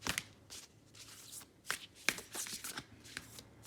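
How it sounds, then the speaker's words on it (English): A deck of numerology cards is shuffled close up in a series of quick riffling bursts and soft slaps, the paper snapping against itself unevenly for a few seconds. "now let's pull out your numerology card really quick."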